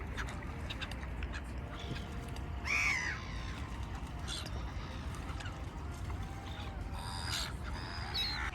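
Crows cawing and other birds calling around a park lake, scattered harsh calls at middle distance over a constant outdoor hum.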